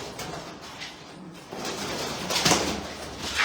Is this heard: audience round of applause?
no